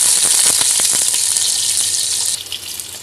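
Onion sizzling in a hot pan for pancit canton, a loud, bright crackle close by with small pops and stirring. The sizzle settles down slightly near the end.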